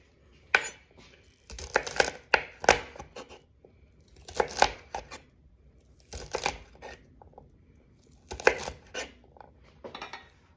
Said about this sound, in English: But I'm gonna chop it now so I don't have to deal with chopping it later after it's cooked